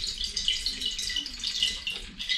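Water gushes out of an opened tank valve on a motorhome, a continuous splashing hiss with an uneven, pulsing flow, close by and moderately loud, no talking.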